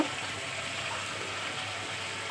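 Steady rain hisses over a flooded street, a continuous even wash of water with no breaks.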